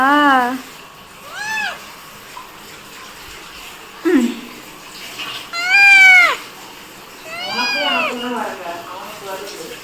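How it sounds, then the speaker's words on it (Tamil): A cat standing in water meows repeatedly, several drawn-out, wavering cries at irregular intervals, loud and close in a quiet indoor space. "பூனையா இது பிசாசான்னு தெரியல"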